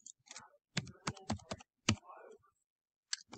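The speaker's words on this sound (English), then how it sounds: "And then type that into a calculator." Keys tapped on a calculator, entering numbers: a short irregular run of soft, close clicks with brief pauses between them, in an otherwise quiet room.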